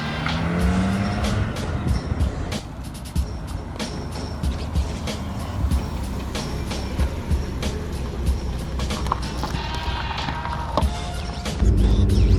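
A Mazda RX-8 heard from inside the cabin while driving: a steady, sustained engine and road rumble fills the space, with scattered clicks and rattles breaking through and the drone swelling slightly near the end.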